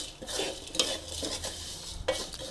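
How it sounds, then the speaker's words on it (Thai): Minced pork and crispy fried garlic stir-fried over low heat, a spatula scraping and clinking against the pan in irregular strokes over a gentle, close sizzle. "แล้วก็เอาลงไปคั่วแบบนี้เลยค่ะ คั่วลงไปเลยค่ะ ใช้ไฟอ่อนๆนนะ"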